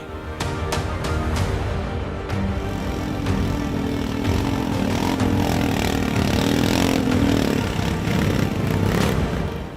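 A modified cargo motorcycle engine putters and revs close by, loud and rough, with sharp pops and a rising drone mid-way.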